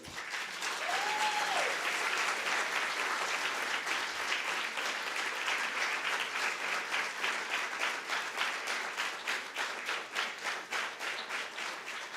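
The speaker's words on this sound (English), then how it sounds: "A very special applause to Dr. Shihab Ghanem." Sustained audience applause for Dr. Shihab Ghanem at a poetry festival event, a full steady roar of clapping lasting throughout, with individual claps growing more distinct near the end.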